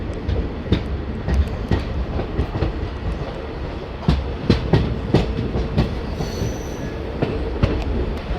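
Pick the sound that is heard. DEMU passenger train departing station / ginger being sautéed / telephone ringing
DEMU passenger train departing station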